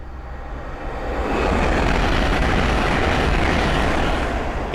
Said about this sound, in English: the next train to pass by is a Hull train 800 from Lincoln Central to London King's Cross